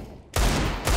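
Gunfire in Counter-Strike, two loud close bursts of shots about half a second apart, with a low steady background before the first burst.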